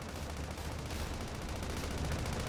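Rapid sustained gunfire from the Sand Land video game, dense repeated shots blending into a continuous loud rattle throughout.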